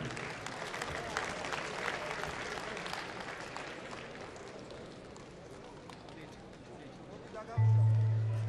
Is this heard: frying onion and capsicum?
no